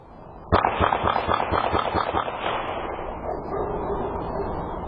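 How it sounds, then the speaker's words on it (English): Rapid gunfire erupts suddenly in a residential neighborhood at night: a loud burst of evenly spaced shots, about a dozen in quick succession, then a lingering echoing rumble. "Rapid gunfire startling this southeast side neighborhood just before 9 p.m."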